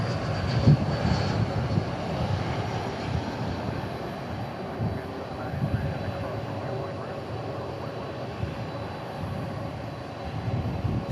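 Broad, steady jet roar of an arriving airliner at DFW International Airport, a continuous rumble holding for the whole stretch with faint voices mixed underneath.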